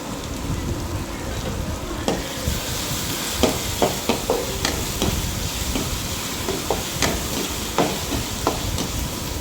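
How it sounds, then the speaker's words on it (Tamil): Tomatoes sautéing in a pan with ginger garlic paste for village-style chicken curry, a steady sizzle broken by scattered clicks and scrapes of stirring, fairly close and without speech. "தக்காளியும் நல்லா வதக்கி விடுங்க"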